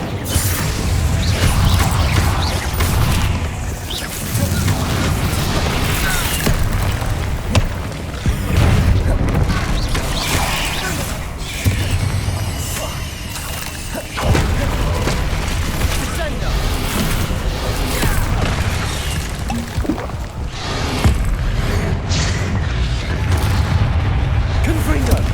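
Repeated Incendio fire spell blasts in Hogwarts Legacy roar and boom in near-continuous waves, loud and close, mixed with other spell impacts and crashing combat noise, with a voice speaking at times.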